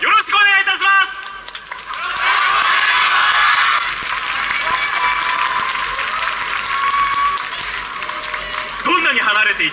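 Crowd at a YOSAKOI Soran dance festival tournament in Chitose breaks into loud, sustained applause and cheering, a dense wash of clapping that swells and holds for several seconds, with music and voices at the edges.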